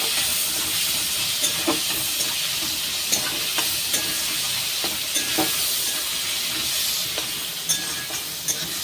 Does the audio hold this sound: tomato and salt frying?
yes